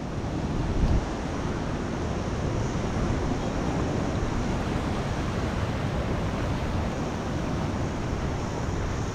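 Continuous roar of ocean water rushing out at Pebbly Beach, Coffs Harbour, heavy and close, with wind buffeting the microphone throughout.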